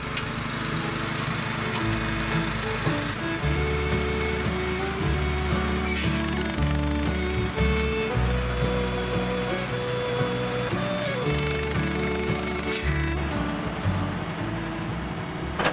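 A tree netting machine wraps freshly cut fir trees in mesh, giving a steady, loud mechanical drone with shifting tonal whine and rattling that runs continuously throughout.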